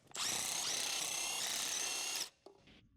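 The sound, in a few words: impact wrench removing Jeep Wrangler JK wheel lug nuts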